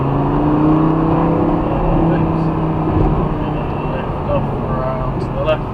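A car accelerates hard on a driving experience track, its engine drone rising and holding steady close by, with a driving instructor talking over it.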